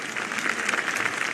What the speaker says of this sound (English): the crowd applauded, though there may have been discomfort for some politicians